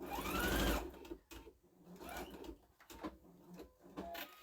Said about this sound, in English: So I'm just going to sew my third one.